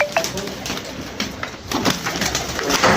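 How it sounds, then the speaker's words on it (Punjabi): Pigeons coo in low, repeated calls amid rustling and scattered clicks from nearby birds. "ਇਹ ਪਕੜੇ ਕਬੂਤਰ ਤੇ ਬਹੁਤ ਤਗੜਾ ਹੈਗਾ"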